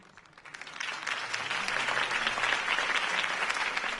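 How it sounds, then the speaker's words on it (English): Crowd applause follows a campaign speech in the video game Batman: The Telltale Series, a cheering clap that starts soft and swells to a loud, sustained roar for several seconds. "If only Mr. Wayne, my campaign's largest backer, could have heard that applause"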